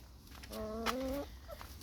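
A single drawn-out cluck from a hen, close and clear, with a faint short call afterward against quiet background.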